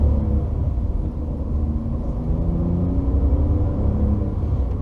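A 2016 Volkswagen Up! with the I-Motion automated gearbox pulls away and accelerates, giving a steady low engine rumble with road noise heard from inside the car and no talk.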